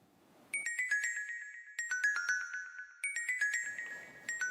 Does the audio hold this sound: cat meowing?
no